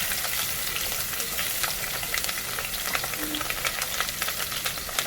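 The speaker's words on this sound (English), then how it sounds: "I'm gonna saute these nicely until it gets a little bit golden color." Chopped green chili, capsicum, garlic and ginger sauté in a hot pan, giving a steady, close, continuous sizzle with faint crackles and no talking.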